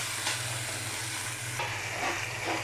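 Masala spices frying in oil for a Bengali duck meat curry, a steady loud sizzle with occasional stirring scrapes and no talking.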